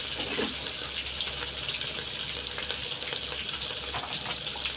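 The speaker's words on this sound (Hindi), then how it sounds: "प्याज लाल लाल भाज दिया।" Onions frying and being stirred in a pan with panch phoron, bay leaf, ginger and garlic for a Manipuri fish curry; a dense, continuous sizzle with scraping stir sounds, close and steady throughout.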